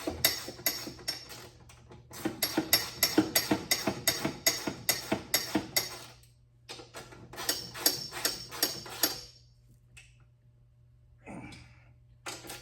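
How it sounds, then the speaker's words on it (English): Quarter-inch drive ratchet tightening a fuel filter on a Grizzly 700 ATV, rapid close clicking bursts in several runs with short pauses, then a few faint knocks. "I'm doing about what's comfortable to tighten with a little quarter drive"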